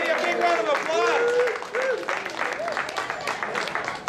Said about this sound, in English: give the young lady a big round of applause